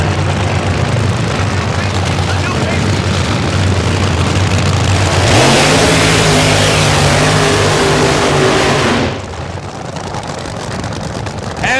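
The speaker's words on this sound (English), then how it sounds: "As the Phoenix race car does its burnout" A Phoenix drag race car does a burnout, its engine roaring loud and steady, then rising into a screaming rev as the tires spin, before cutting back to a lower rumble.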